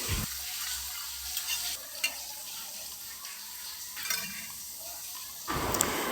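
Onions frying in a pan give off a soft, steady sizzle with occasional stirring scrapes, fairly faint and close, with no voices.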